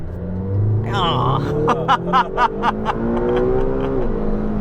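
A McLaren GT sports car accelerates hard, its engine note rising in a loud, strained climb through several seconds, with rapid pulsing bursts of exhaust popping midway, heard from inside the cabin alongside someone talking.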